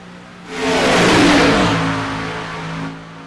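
Race cars at Daytona sweep past a trackside point at speed, a loud engine roar that swells quickly and then fades as they move away, with no voices.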